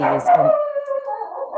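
A pet dog at home lets out a short, loud yelping bark that trails into a whine, close to the microphone during an online public hearing, overlapping a single spoken word.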